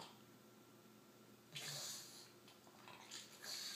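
A pet gives a few short sneezes and snorts, close and soft, beginning partway through after a quiet stretch, with breathy bursts following.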